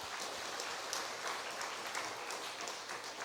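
Faint applause from a church congregation, soft and distant-sounding, with scattered claps continuing evenly for a few seconds.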